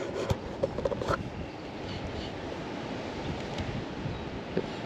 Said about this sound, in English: It's a bit windy out here today. It's really breezy actually.